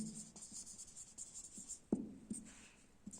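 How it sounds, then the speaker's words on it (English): Pen or chalk scratches out handwriting in short bursts of strokes with small taps between, close and quiet, with no one speaking over it. "Let me write one more example."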